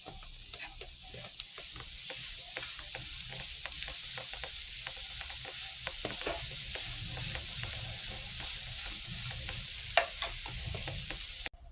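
Vegetables for thoran stir-fried in a pan, with a steady bright sizzle and frequent scraping, clacking stirs of a spatula throughout, close and continuous, with no talking.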